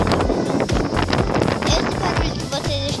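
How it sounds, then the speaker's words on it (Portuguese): Strong wind at a beach buffets the microphone near the stairs down to the shore, a loud continuous rumbling roar with gusty swells and no voices. "Esse barulho que vocês estão ouvindo agora é do vento"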